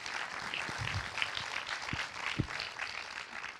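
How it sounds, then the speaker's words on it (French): An audience at an APSSIS conference session applauds the presenters, a moderate, diffuse patter of scattered clapping with a few distinct nearby claps standing out over a steady room wash. "Je pense qu'on peut les applaudir déjà."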